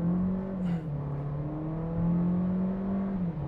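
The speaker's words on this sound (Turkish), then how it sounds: "Motor güzel devirleniyor" A Skoda Octavia, transmission in sport mode, revs hard through a 0-100 acceleration run, its engine tone climbing steadily and heard close from inside the cabin, with a brief dip before building again.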